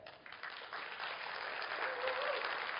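Audience applause in a hall, a soft, distant wash of clapping that swells slightly and holds steady, fairly faint overall.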